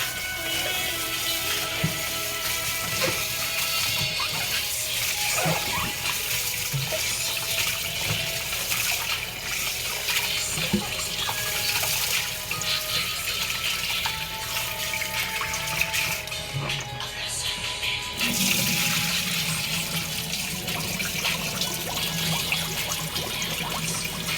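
Rice is washed under running tap water, a continuous steady splash and trickle lasting throughout with a brief shift in flow near the end, heard alone without speech.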